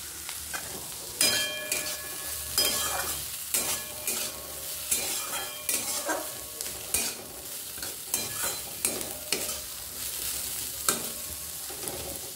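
Whole pointed gourds (potol) frying in oil in a home kitchen, a constant crackling sizzle broken by repeated stirring scrapes and clatters, close and steady with no talk.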